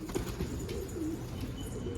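Soft coos of racing pigeons sound amid a busy background of rustling and chatter, the birds near but partly masked.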